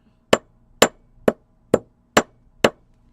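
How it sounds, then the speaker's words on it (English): Six sharp hammer strikes land on a metal pennant necklace piece being textured, evenly spaced about half a second apart, crisp and close with silence between. "you're going to need to move your hammer back and forth, up and down the piece"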